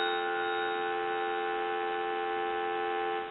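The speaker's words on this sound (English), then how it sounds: "I want to give you some dial tone." Steady telephone dial tone from a Western Electric 329 wood wall telephone, a continuous even hum that holds unchanged throughout, with no talking.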